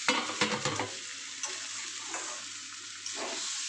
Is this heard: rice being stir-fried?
yes